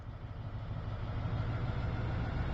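Class 43 diesel locomotive engine idling in Train Sim World 2, a steady low rumbling drone with a dense low-frequency throb, holding even and continuous throughout without any voices.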